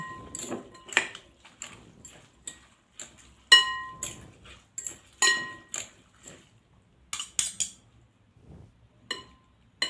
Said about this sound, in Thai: แล้วก็คนคนคนให้มันเข้ากัน